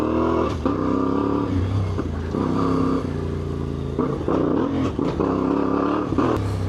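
A CFMOTO 450MT IBEX motorcycle with a power tune, ridden in first gear through a tight turn, gives a loud close engine note rising and dropping in repeated revs and gear changes.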